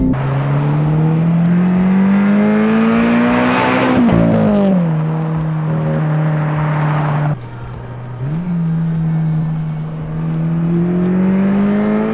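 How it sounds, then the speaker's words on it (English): A car with an aftermarket Remark exhaust approaches, its pitch rising as it accelerates close by, then falling away and settling into a steady drone. "let's give Tito a flyby."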